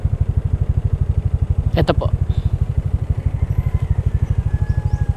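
Three motorcycles idle close by with a steady, even low throb that runs throughout, while a person speaks briefly over the engines.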